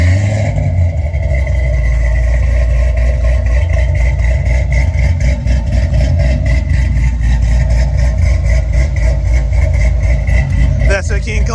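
A car fitted with a King Kong camshaft idles up close, a loud, deep, steady rumble with a choppy, lumpy beat that keeps up without a break.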